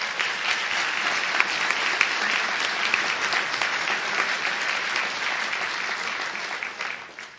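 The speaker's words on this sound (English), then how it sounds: "Let's all give a round of applause to those listening at home." Audience applause at a law school graduation ceremony, a dense, sustained round of clapping that tapers off at the end.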